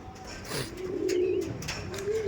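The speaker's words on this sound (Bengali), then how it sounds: "এটা ছিল মাদি আর এটা ছিল নর পায়রা" A pair of domestic pigeons, one female and one male, give a close, clear cooing call that rises and holds for about a second. Faint chirps and background rustle sit beneath it.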